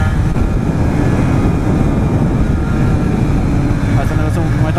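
Motorcycle engine pulling hard under load while riding, a steady loud rumbling drone with wind and road noise throughout, no clear gear changes.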